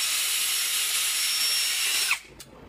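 A power drill whirs steadily as it backs screws out of a Begode Falcon Pro electric unicycle, a loud, close, continuous whine that stops abruptly near the end, followed by a faint tap.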